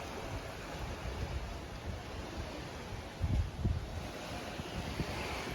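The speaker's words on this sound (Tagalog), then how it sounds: "Maririnig mo pa rin yung humpas ng alon." Ocean waves wash in at Camiguin Island under steady wind noise, with a louder surge of surf breaking about midway, then settling back to a soft roar.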